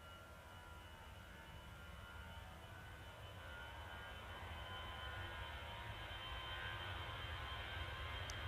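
Distant jet engine noise from an EasyJet airliner at Manchester Airport, a faint, steady rumble that slowly swells louder as the aircraft approaches, with no voices.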